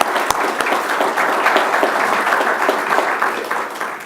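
Applause breaks out at the Albany County budget address, a sustained wash of many people clapping from start to finish before easing off slightly at the end.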